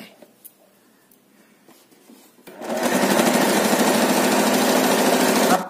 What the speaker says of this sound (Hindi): अब हमने एक पैर की सिलाई करते हुए इसके चारों तरफ हमने इस पाइपिंग को स्टिच कर लेना है।